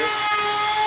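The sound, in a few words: trim router with laminate trim bit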